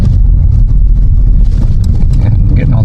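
A 2020 Hyundai Elantra SEL accelerating onto a freeway gives a loud, steady low rumble of engine and road noise from inside the cabin, running continuously beneath someone talking.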